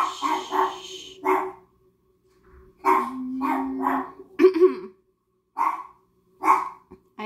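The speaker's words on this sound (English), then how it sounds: "I have a dog. I actually have two dogs. They like to bark sometimes." Two pet dogs bark in short bursts indoors, loud and close, with several separate barks spread across the stretch and quiet gaps between them.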